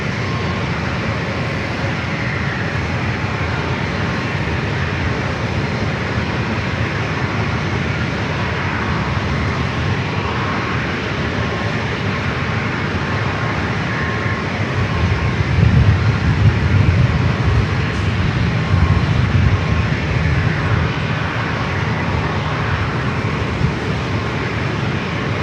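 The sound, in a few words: Alaska Boeing 737-900ER jet taking off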